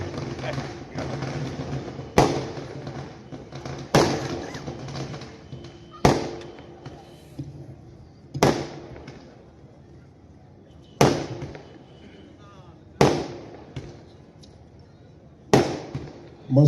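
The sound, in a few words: firecrackers going off at a political rally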